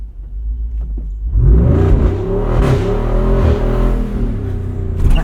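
A 2024 Jeep Wrangler Rubicon 392 Final Edition V8 pulls briefly in 4-low, its deep engine rumble swelling and revving up close and loud after a short idle.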